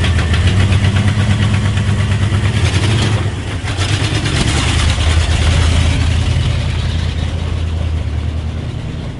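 A Ford F250 V8 engine idles loudly and steadily up close, with a deep, rumbling, continuous drone and a slight dip in level midway, and no talking.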